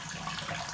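Water pours through a sieve or colander during children's kitchen play, a short steady splashing trickle with no talk.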